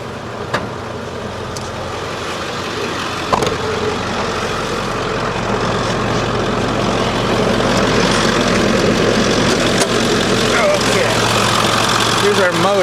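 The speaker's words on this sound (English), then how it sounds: "there's our motor, and you can see in great condition. It sounds great." A 7.3 diesel engine in a 2003 Leader T2 idles with the hood open, giving a steady low rumble that grows slightly louder over the clip, with a couple of brief knocks near the start.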